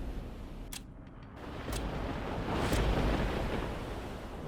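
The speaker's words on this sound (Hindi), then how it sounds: "ये समंदर जितना खूबसूरत है उतना ही खतरनाक।" Ocean surf rolls along the Andhra Pradesh coastline as a steady, faint wash of waves with a gentle swell midway, blended with wind noise and no voices.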